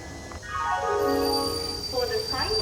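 A train at Rourkela station sounds a long, tonal squeal or horn that slides downward, holds, then fades, with a second shorter sweep near the end over a low rumble.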